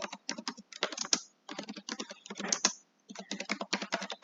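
Fast typing on a computer keyboard, close and crisp, in quick bursts of keystrokes with short pauses between words. No one speaks.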